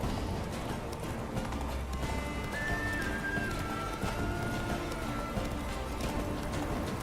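Roach, a horse in The Witcher 3: Blood and Wine, gallops in steady rhythmic clip-clop hoofbeats amid game ambience, with a brief whinny-like tone partway through.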